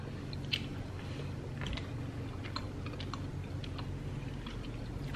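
Close, wet chewing of a peach-flavoured gummy candy, a steady run of soft squishes and small smacks that continues without talk.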